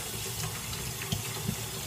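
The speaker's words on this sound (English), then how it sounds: "today I'll be doing a water fountain inside of the sink" Water runs from a tap into a sink fountain built with a glass bottle, coconut half and plate, a steady close hiss with a couple of soft splashy knocks, no talk.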